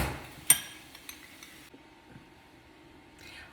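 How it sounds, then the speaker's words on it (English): Whisked eggs clink against a cup, with one sharp bright tap followed by a few lighter clinks, close and fairly quiet, then near-silence and a soft brushing at the end. "we've whisked our eggs"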